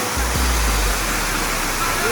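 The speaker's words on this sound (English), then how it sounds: "And this is the Dumala waterfall" Dumala waterfall near Khwai, Tripura, roars as a dense, continuous rush of falling water, loud and close throughout.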